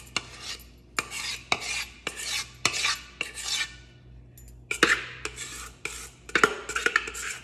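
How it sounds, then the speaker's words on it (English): Banana bread batter goes from a mixing bowl into a greased cake pan as a spoon or spatula scrapes and clinks against the bowl in a series of close, sharp taps and rasping strokes, with a brief pause midway. "going to pour my mixture in the cake pan, which is already greased"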